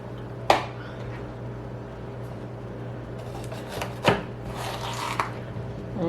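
A knife slices healthy fresh peppers into strips, with a few separate chops spaced several seconds apart over a steady low background hum.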